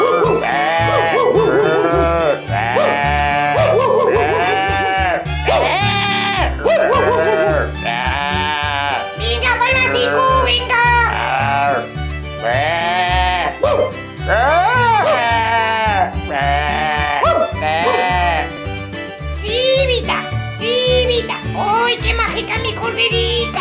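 A shepherdess's herd of livestock with sheep bleating, the repeated calls mixed into a loud, busy scene with music and people talking over them throughout.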